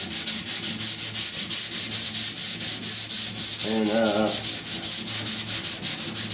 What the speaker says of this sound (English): we're gonna start sanding